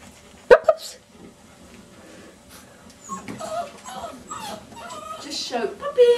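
Puppies give short high whimpers and yips, with a couple of sharp cries early on, while a person calls out excitedly nearby.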